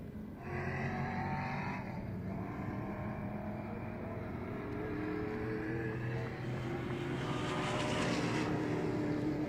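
Mainland Muscle Cars racing at Timaru, with loud V8 engines roaring steadily past nearby, the engine note rising and falling across the whole stretch, with no talk over it.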